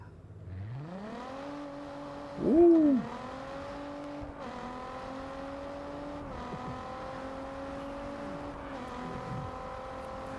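A Ford GT engine in the racing game Test Drive Unlimited Solar Crown revs up from low, climbs through gears with a brief louder blip, then holds a steady, smooth drone; a voice briefly exclaims once.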